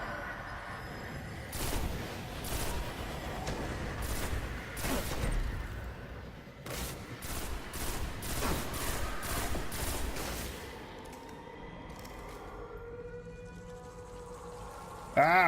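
Gunfire in the video game Destiny, rapid bursts of shots in clustered volleys over steady game ambience, with a voice talking at times.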